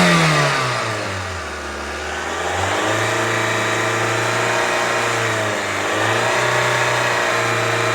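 A Toyota Corolla engine, one with a P0171 lean-condition fault, revs up and holds steady around 3,000 RPM in a continuous close drone, dipping briefly twice before settling back to the same pitch, with no talk.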